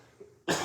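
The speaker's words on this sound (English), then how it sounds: "I gotta clear my throat." A single abrupt, forceful throat clearing, close and loud, breaking a near-silent pause in the middle of casual talk.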